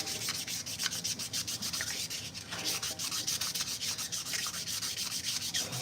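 Close, continuous hand sanding with 500 grit sandpaper, a rhythmic scratchy rubbing of quick back-and-forth strokes that keeps going steadily.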